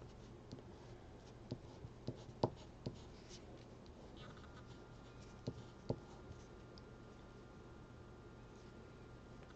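Boya crayons scratching across paper in a quiet room, a faint soft rasp broken by a few light taps and strokes, with no talking.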